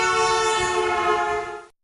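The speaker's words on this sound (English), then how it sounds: "a car or a bus honking a horn while passing you on the street is something which sounds" A car or bus horn blares as it passes on a street: a loud, sustained, buzzy tone lasting under two seconds, ending in a quick fade.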